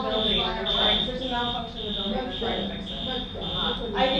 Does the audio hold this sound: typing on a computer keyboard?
no